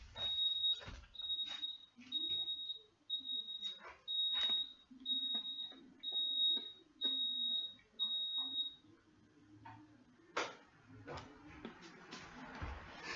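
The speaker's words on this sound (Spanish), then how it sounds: "esta alarma nos tiene jodidos" A household alarm repeatedly beeping in a home, in a steady series of short, high electronic tones spaced about half a second apart for several seconds, then stopping, with thumps and faint room noise around it.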